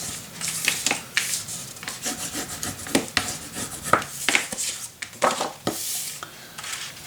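Paper being folded and creased by hand for a mini album, a series of close, brisk rubbing and scraping strokes with short pauses between them.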